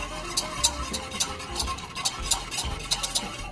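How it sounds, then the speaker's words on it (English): A whisk stirs a liquid that has come up to a small boil, giving light, regular ticking taps against the pot over a soft low rumble, close and fairly quiet. "Using our whisk, we just want to mix it up a touch."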